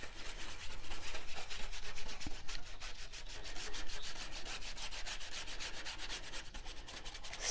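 Watercolor paper is scrubbed to lift old paint, with rapid, rhythmic rubbing strokes that hiss steadily and close up, alone with no talk.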